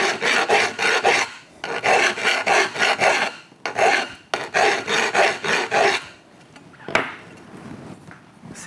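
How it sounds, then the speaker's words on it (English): A hand file rasps repeatedly against the end of a bike frame tube, close and loud, in rhythmic bursts of quick back-and-forth strokes with short pauses between sets, ending with a single metallic clink. "So it needs a little file right on the bottom."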